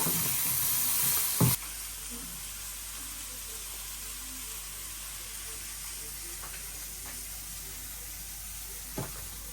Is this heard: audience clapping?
no